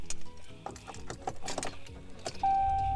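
Keys jangle and rattle close by as a 2017 RAM 1500 crew cab truck is started, a short burst of metallic clinks followed by a steady low engine hum and a faint chime tone.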